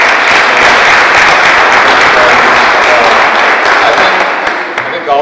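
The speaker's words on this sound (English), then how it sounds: "Let's give a round of applause to all of the people that have put this together and worked for so many years." Loud crowd applause at a rehabilitation center groundbreaking, dense clapping that holds steady then thins and fades near the end.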